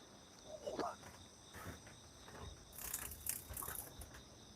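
A large cicada lands on a balcony and gives a faint, distant-sounding buzzy trill. The trill swells in short bursts in the second half over quiet outdoor ambience.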